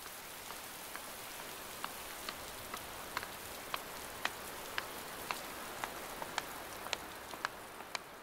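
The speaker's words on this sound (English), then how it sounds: "The continuous rain washes away many of the plots, and Yi Chen is forced into damage control." Continuous rain falls on open salt fields, a soft steady hiss with distinct drops ticking sharply at irregular intervals over the whole stretch, fairly quiet and without voices.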